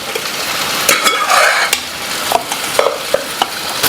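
Lentil and tamarind mixture is poured into sambar and stirred in a pot, a sizzling wash broken by sharp clinks of a spoon against metal.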